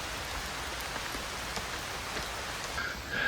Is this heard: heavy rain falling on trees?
yes